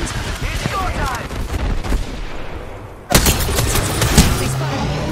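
Dense, loud gunfire rattles nonstop in Apex Legends, volleys of close shots overlapping into a steady barrage, with a sharp burst partway through and some speech mixed in.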